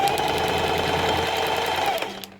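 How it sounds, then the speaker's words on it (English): Sewing machine running steadily while stitching rows over feather fringe, a loud, close, continuous mechanical whir that slows and stops near the end. "doing a whole nother 2 rows of stitching over this"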